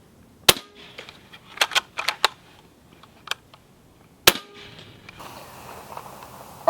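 Hatsan Gladius integrally suppressed bullpup air rifle fired at full suppression outdoors, with sharp muffled cracks at the start and again partway through, separated by fainter clicks and mechanical handling noises.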